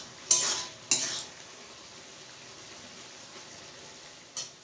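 Semolina roasting in a pan for upma as a utensil stirs it, with a few sharp scraping clinks near the start and end over a faint, steady dry hiss.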